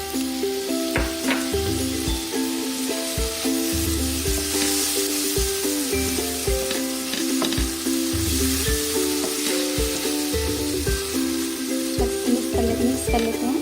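Chopped tomatoes with coriander powder sizzle steadily in a hot pan for palak paneer, a continuous close frying hiss broken by repeated scraping and clinking of a stirring spoon.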